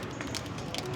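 A street audience in São Paulo taps fingers against palms to imitate light drizzle, producing a faint, soft crackling patter with no clear voices.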